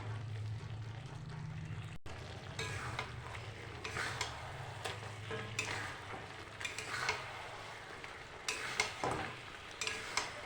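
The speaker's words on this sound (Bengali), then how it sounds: "থালাটা সরিয়ে দিয়ে একটু নাড়াচাড়া দিয়ে নেব।" Chicken pieces cook in a pan while a spoon stirs them, giving a steady close sizzle with scraping strokes and a few louder clacks throughout.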